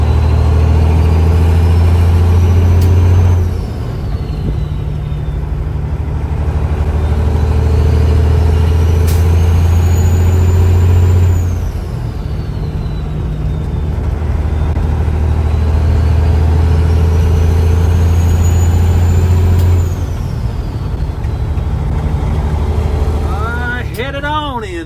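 A truck with a new Detroit diesel engine drives in cold, snowy conditions, its low engine drone rising and falling through gear changes with whining turbo sweeps, loud and close inside the cab.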